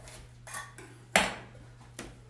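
A knife slices through a sweet potato on a board, giving a few short taps with one sharper thunk where the blade meets the board, close by and fairly soft.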